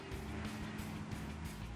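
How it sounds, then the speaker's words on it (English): Road traffic outside on a rainy day makes a faint, muffled, continuous rumble and hiss, with no distinct passes standing out. "see what I mean about the traffic?"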